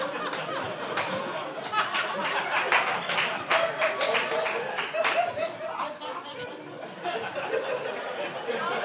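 A comedy club crowd breaks into scattered clapping mixed with chuckles and laughter, with sharp individual claps over a murmur of audience chatter throughout.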